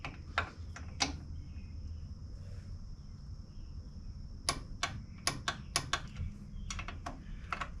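Quick metallic clicks from a torque wrench set to 15 tightening ball joint bolts on a car, a few early, then a rapid burst near the end, close by over faint background noise.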